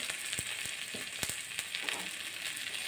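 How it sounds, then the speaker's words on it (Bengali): Mourala fish frying with salt and turmeric in a pan, a continuous close crackling sizzle with scattered sharp pops and a few light clicks, steady throughout with no voices. "দিয়ে ভালো করে একটু ভেজে নেব।"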